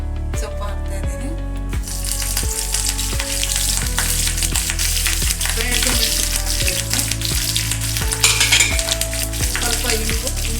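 Leafy greens sizzle and crackle steadily in hot oil while being stirred, with a spoon repeatedly knocking against the pan in a rhythmic pattern and soft music running underneath, close and loud throughout.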